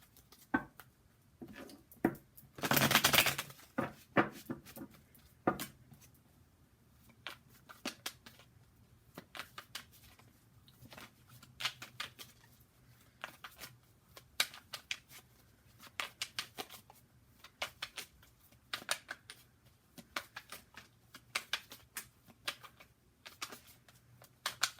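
Tarot cards shuffle by hand in quick riffles and soft slaps, a burst of louder card noise early on followed by repeated light flicking and tapping, close and fairly quiet.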